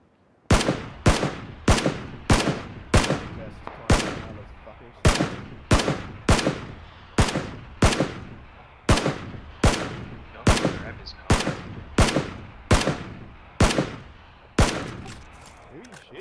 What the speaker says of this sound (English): I'm getting shot from the hills, like I said.